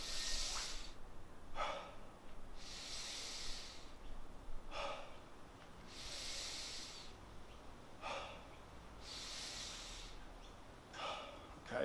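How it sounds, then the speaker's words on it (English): Slow, deliberate inhalations through the nose during a diaphragmatic breathing exercise, each breath a soft airy hiss, repeating in a calm rhythm about every two to three seconds, close and quiet with no talking. "thinking about breathing in through the nose"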